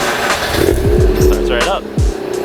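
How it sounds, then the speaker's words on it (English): A cold Mazda RX8 rotary engine cranks and fires, with a few quick low thumps rising into a steady, slightly choppy idle close by, with someone speaking over it. "let's get a cold start."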